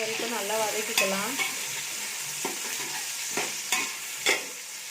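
Sliced onions sautéing in a hot pan until brown, with a steady close sizzle of frying and a few sharp scrapes and knocks of a stirring spoon against the pan, no talk.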